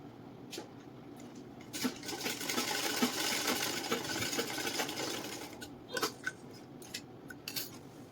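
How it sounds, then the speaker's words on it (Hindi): A sewing machine stitches down the fabric of ladies' loose-fitting pants, a steady close whir building and running for several seconds before easing off, followed by scattered clicks and handling of cloth, with no speech. "और अब आप इसको नीचे सिल दीजिएगा।"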